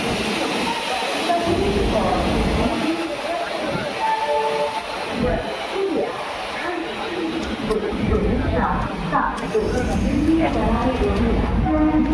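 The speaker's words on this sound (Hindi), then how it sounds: "तो ट्रेन डिपार्चर हो रही है चूरू जंक्शन से।" The Bikaner–Delhi Sarai Rohilla SF Express pulls out of Churu Junction behind a WAP-5 locomotive, with rumbling wheels, a hiss and a horn note, while someone talks over the departing train.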